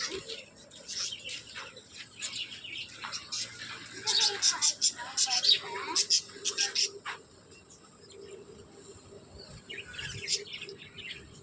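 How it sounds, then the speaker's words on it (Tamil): Lovebirds chirp in an enclosure, a busy flurry of high, sharp tweets that swells to a dense burst in the middle then thins out, fairly close, with a person talking quietly at times. "இங்கே பாருங்க லவ் பேர்ட்ஸ்லாம் அழகாக இருக்குல்ல."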